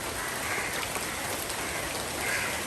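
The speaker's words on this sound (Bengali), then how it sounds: "বেশ বৃষ্টি হচ্ছে এখন।" Steady rain falls in a Bangladeshi village during a rainy-day riverside cooking outing, an even, soft hiss of drops on surfaces that holds unchanged throughout, fairly quiet, with no voices.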